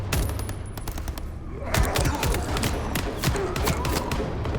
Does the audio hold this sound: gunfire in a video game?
yes